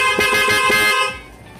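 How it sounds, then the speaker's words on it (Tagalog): A loud, close aftermarket horn on a Suzuki Burgman Street EX scooter, engine off, blares in a few quick pulsing honks, holding a brassy tone before cutting off into quiet background. "Loudhorn."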